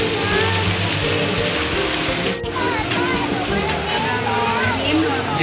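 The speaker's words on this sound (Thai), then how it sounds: "นี่นะฮะน้ำตกมังกร" Dragon Waterfall in Phitsanulok, a heavy cascade of rushing water, roars as a loud, steady broadband wash throughout, with a brief dip midway and faint voices underneath.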